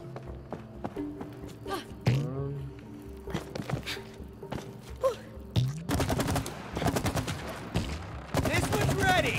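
Rapid bursts of gunfire ring out in the video game It Takes Two, sparse at first and then fast and continuous, with thuds and footstep-like knocks and a voice talking in between.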